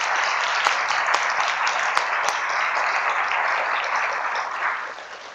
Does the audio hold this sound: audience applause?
yes